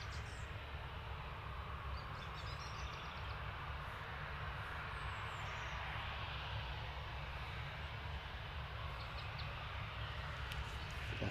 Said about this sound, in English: here is the 737-800 Ryanair off to Rabat